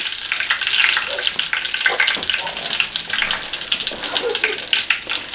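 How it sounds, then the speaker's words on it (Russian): Hot oil crackles and sputters steadily and loudly as cherry pirozhki fry, a dense continuous sizzle with no voices. "пусть потихонечку жарятся"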